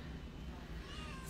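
Meowing from a roughly ten-week-old kitten at a cat adoption event, soft and fairly distant, overlaid on steady low background noise.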